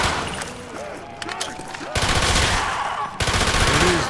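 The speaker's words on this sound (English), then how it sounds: "With this SMG, I bring death!" SMG gunfire in Call of Duty Black Ops Zombies on the Kino der Toten map, a rapid rattling stream of shots broken into a few long bursts, loud and close, mixed with zombie game noise and a voice speaking.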